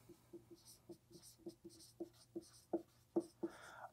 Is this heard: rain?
no